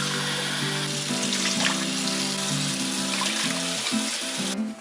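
Warm water running from a tap into a bowl for bread dough, a steady close splashing hiss lasting several seconds.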